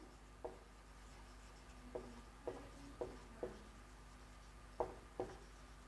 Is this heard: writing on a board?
yes